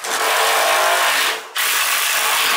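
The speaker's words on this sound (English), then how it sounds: "drill all the holes" A hand-held power drill whines loudly and steadily while boring holes in wood, briefly stops, then starts boring again, close up with no talking.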